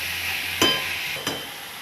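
Mustard paste frying in a pan for a Bengali datha dish, a steady close sizzle with two brief louder scrapes of stirring.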